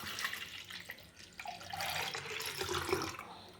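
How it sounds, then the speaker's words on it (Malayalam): Liquid poured into a blender juice jar, a gentle splashing trickle that shifts in pitch as the jar fills, faint and brief with no talking. "ജ്യൂസിൻ്റെ ജാറൊന്ന് ഇതിലിങ്ങനെ ഒഴിച്ച് വെക്കാം"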